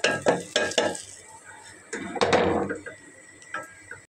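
A metal spoon scrapes and knocks against a pot while dal cooks, giving a few sharp clinks and stirring scrapes with a soft sizzle, close and fairly loud.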